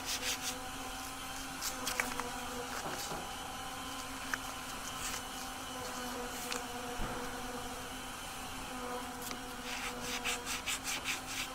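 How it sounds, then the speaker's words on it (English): A faint, steady rubbing and scraping texture with a low hum underneath and occasional small clicks, softer rhythmic strokes near the end, no speech. "Lovely bit of rubbing"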